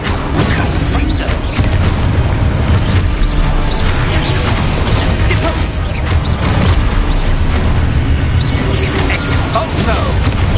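Confringo fire-spell explosions in Hogwarts Legacy combat, a loud, unbroken wall of booming blasts and clashing mechanical noise with no quiet gaps.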